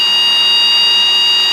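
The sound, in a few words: helicopter low rotor RPM warning beep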